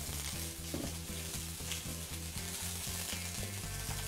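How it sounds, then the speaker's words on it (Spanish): Chicken browns in a pot with a steady hiss of frying fat, running continuously beneath louder, rhythmic background music for the whole stretch. "Mientras dejo el pollo acá que se cocine y que, se forme ese dorado que te estaba contando"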